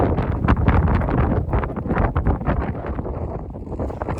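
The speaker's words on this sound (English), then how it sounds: "Up here, the wind's blowing straight across, this spin drift, and it's wild." Strong wind gusting across a snowy hilltop with spindrift, a loud buffeting roar hitting the microphone in uneven surges throughout, with no talk.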